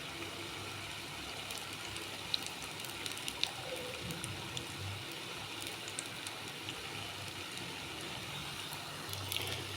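Ripe mango fritters frying in hot oil, a low, even crackle and bubbling that stays quiet and constant throughout, with a few faint pops.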